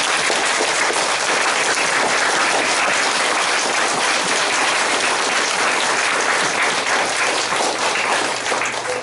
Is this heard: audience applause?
yes